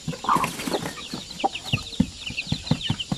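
Native chickens of the zampen, basilan and shamo aseel breeds cluck and squawk in quick irregular bursts, close by, with a few louder calls and some rustling.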